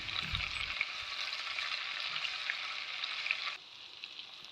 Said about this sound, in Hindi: सबसे पहले लहसुन और अदरक के पेस्ट को फ्राई करेंगे।